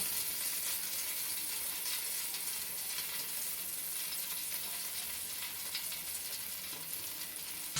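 Lamb kidney sits fat side down on a grill and gives off a steady, crackling sizzle with tiny pops. The sound is fairly soft and continuous, and no one speaks.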